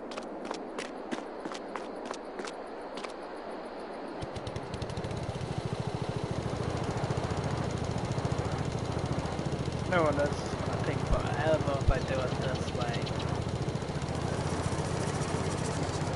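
A lawn mower engine in Farming Simulator 22 on the Michigan Farms map starts up partway through, a steady mid-pitched motor hum that follows a few seconds of quieter clicking and runs continuously to the end.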